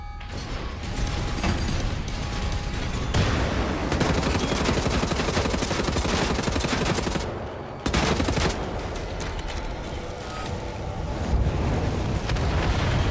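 Dense bursts of gunfire and booming explosions from the video game Wolfenstein: The New Order roar almost continuously, loud and close, with a brief drop near the middle before the barrage resumes.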